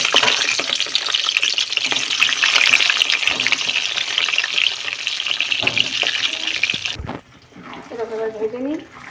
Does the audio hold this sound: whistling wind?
no